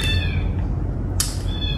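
A cat meows, with a harmonic cry at the start and another brief call near the end over a steady low background rumble.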